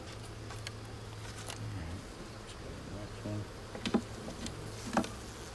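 Honeybees buzzing around an open hive during an inspection, a steady close drone of many insects with a few brief taps and knocks toward the end, no speech.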